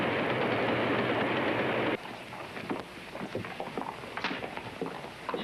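A passenger train crossing the Dakota Territory in frontier times gives a loud, steady rumble that suddenly drops to a quieter running noise with scattered rattles and clanks.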